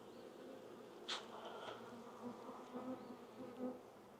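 Honeybees buzz steadily around an open hive during an inspection, a dense insect drone with a few louder passes as individual bees fly close by, no talking.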